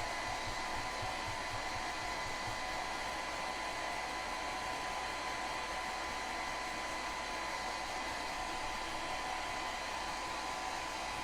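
A hair dryer blows steadily and loudly for the whole stretch as hair is dried, a constant whooshing hum with no speech.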